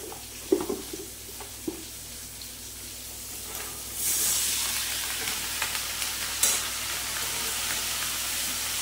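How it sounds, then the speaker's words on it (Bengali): Drumstick stalks, red and regular potatoes, capsicum and beans sautéing in a pan for navratan korma, a soft steady sizzle with a few stirring clatters early on and a brighter hiss that rises midway. "এবার এই সবজি দিয়ে সুন্দর করে কষে নেব"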